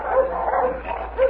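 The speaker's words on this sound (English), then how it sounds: "Dogs." Several dogs bark and yip in an old radio crime drama, tied up outside a farmhouse in the early morning; a short, steady run of barking at moderate distance with no voices over it.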